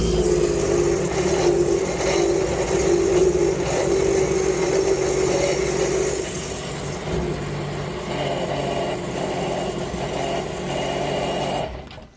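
A Sea-Doo jet boat engine runs steadily and loudly throughout at a constant rumble, its tone shifting slightly about halfway through, heard up close on a mechanic's bench during an IBR diagnostic, with no talk over it.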